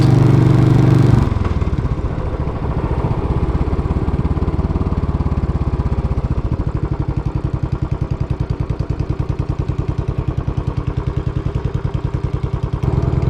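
A Royal Enfield Bullet 500 single-cylinder motorcycle runs while being ridden, its engine thumping in a steady, rapid, even rhythm, loud and close, after a brief louder burst at the start.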